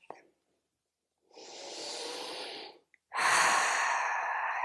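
Deep, slow breaths during a yoga session after a long trip: a long, steady exhale, a pause, then a fuller breath close to the microphone, with no talking.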